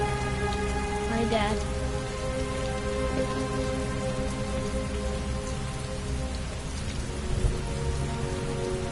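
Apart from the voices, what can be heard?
heavy rain in video game Heavy Rain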